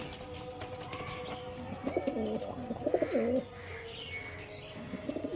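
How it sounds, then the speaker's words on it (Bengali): Pigeons kept in pairs give soft, rolling coos in a few close bursts, with faint chirps from other birds in the background. "খুব ভালো ভালো পায়রা"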